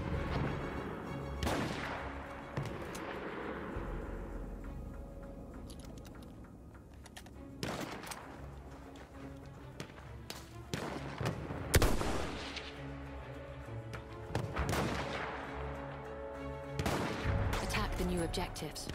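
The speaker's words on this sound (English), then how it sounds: "Wait for the enemy artillery barrage to stop firing" Heavy artillery barrage in the Battlefield 1 beta, with booming blasts striking at irregular intervals over a rumbling battlefield bed, some impacts loud and close, others more distant, with a voice talking at points.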